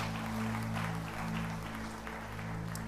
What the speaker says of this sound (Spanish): Vamos a darle un aplauso al Señor por nuestros actores.